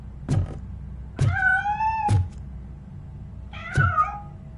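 A cat meows in the Robocop Rogue City video game, giving three clear, drawn-out meows with short pauses between them against a quiet background.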